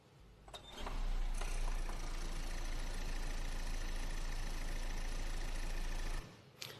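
A mainstream-brand range extender engine starts abruptly and runs at a steady, droning idle with a buzzing, slightly rattly tone, then cuts off after about five seconds.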